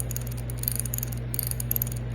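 A steel cricket rolls along a six-sided star bar, giving a fine, continuous metallic ticking and rattling, quiet and close over a steady low hum.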